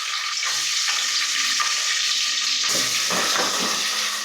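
Onion fries in a pan with whole spices such as cinnamon, cardamom, star anise and bay leaf, giving a loud, close, continuous sizzle that surges partway through, with no talk.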